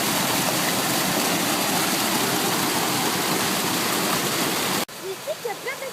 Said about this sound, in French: Il y a beaucoup d'eau parce que la neige fond.